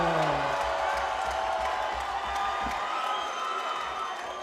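A fight-night crowd at a Chosen Few Fighting Championship bout cheering for a fighter, a loud sustained roar of voices and whoops with scattered claps.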